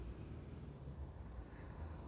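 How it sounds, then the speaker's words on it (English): Wind on a very blustery day at the construction site of Everton's new stadium at Bramley-Moore Dock, heard as a steady, low, rumbling gust buffeting the microphone with no other clear sound. "A very windy day."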